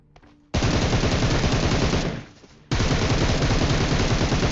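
Loud, close automatic gunfire in a video game, one long continuous burst, a brief drop-off, then another sustained burst, with no talking.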